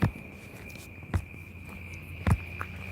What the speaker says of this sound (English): Oh, there's a lot of crickets around here.